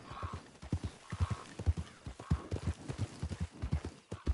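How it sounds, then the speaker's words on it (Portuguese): A horse in Red Dead Redemption 2 clip-clops in a steady, close rhythm of hoofbeats, with faint neighs rising at intervals over the footfalls. "Agora tem um cavalo."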